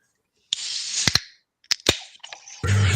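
A can of nitro-infused chocolate stout is cracked open with a sharp pop and a hiss of escaping gas, followed by a few clicks and then a rush of fizzing foam.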